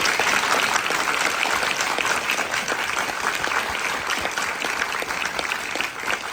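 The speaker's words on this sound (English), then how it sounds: "Please give them a round of applause" An audience at a short film screening applauds the filmmakers after a Q&A session, a lively, close burst of many hands clapping that stays strong throughout and eases only slightly at the close.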